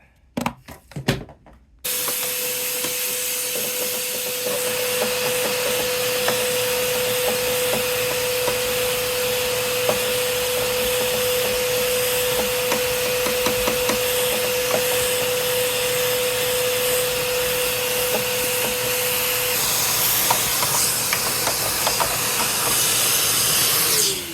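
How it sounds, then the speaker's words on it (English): A Bissell vacuum cleaner runs steadily and loudly with a constant whine and hiss, its brush attachment scraping and tapping faintly on mini-split air conditioner parts under the motor noise. "I actually used the brush attachment on the Bissell vacuum cleaner."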